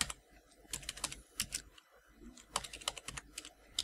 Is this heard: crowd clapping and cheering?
no